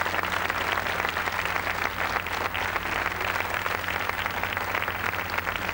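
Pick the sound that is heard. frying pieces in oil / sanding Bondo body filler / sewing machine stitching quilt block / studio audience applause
studio audience applause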